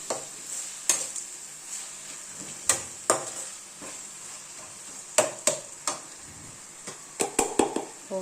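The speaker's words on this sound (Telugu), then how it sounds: "వేసి ఎర్రగా వేయించాలి." Onions, coriander and garlic fry in hot oil in a pan, a steady soft sizzle broken by sharp scrapes and clinks of a spatula against the pan at irregular intervals, close by with no talk.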